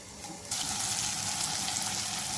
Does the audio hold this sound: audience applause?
no